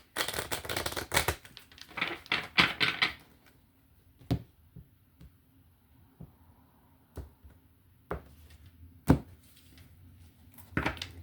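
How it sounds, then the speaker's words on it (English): Tarot cards being shuffled in a quick riffling burst at the start, then a few sharp, isolated taps and flicks of cards against a quiet background. "One more shuffle."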